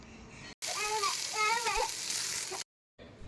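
Halved tomatoes fry in hot oil in a pan, a close, steady sizzle with thin whistling, squeaky tones rising over it, cut off abruptly near the end.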